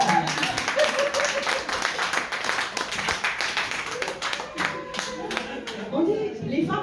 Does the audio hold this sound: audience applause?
yes